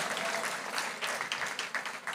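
A church congregation applauds together in a dense wash of overlapping claps, heard at a moderate distance and holding steady for a couple of seconds.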